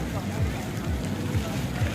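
Strong wind at the sea in Goa, a loud steady gusting roar with crashing surf underneath while a person talks over it.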